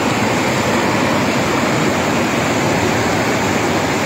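A flooded mountain stream in spate, its water suddenly risen enough to sweep away parked cars, roars as a steady, loud, broadband rush that holds without a break and with no voices over it.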